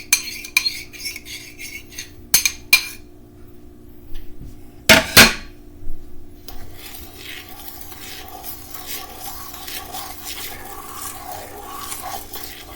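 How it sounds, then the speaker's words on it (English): A spoon stirs chocolate and coffee into a sour cream chocolate cake batter, scraping and clinking against the bowl in a few sharp knocks early on, then settling into a soft, steady churning scrape close by. "I'm going to stir in the chocolate"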